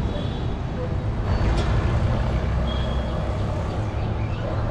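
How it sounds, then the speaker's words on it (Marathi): Steady road traffic rumbles nearby, a continuous wash of engine and tire noise with faint voices mixed in. "गाड्या वगैरे चालू आहेत सगळ्या."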